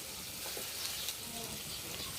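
Fish gravy with raisin paste fries and is stirred in a pan, giving a soft, continuous sizzle with occasional scraping stirs, quiet and steady throughout.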